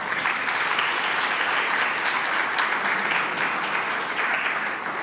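Steady applause from an audience at an academic honors conference, a dense continuous patter of clapping hands that holds at even loudness for the whole stretch with no talk over it.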